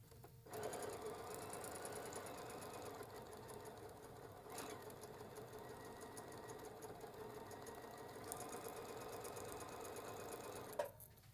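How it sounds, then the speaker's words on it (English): A sewing machine stitching a Christmas-themed quilt block hums steadily and close for about ten seconds, with a fast, even needle rhythm, brief pauses and a small click as it stops. "So I'm going to go sew this."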